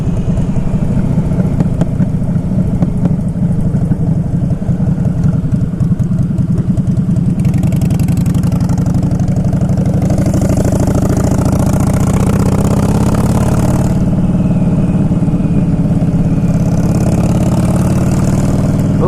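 A 2011 Harley-Davidson Fat Boy Low idling, a steady, loud low-pitched engine rumble that holds continuously throughout with slight swells and no speech.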